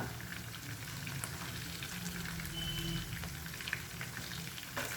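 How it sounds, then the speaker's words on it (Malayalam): Chicken pieces frying in a pan after being turned over, a steady, fairly quiet sizzle and bubbling that continues evenly with a few faint clicks. "ഇപ്പം ചിക്കൻ എല്ലാം മറിച്ചിട്ട് കൊടുത്തിട്ടുണ്ട്. ഇനി ആ സൈഡും കൂടെ ഒന്ന് മുരിഞ്ഞ് വരട്ടെ."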